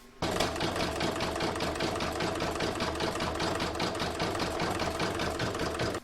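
An embroidery machine stitches placemat rounds in the hoop, a loud, steady rapid needle chatter with an even mechanical pulse running continuously and close, no voices.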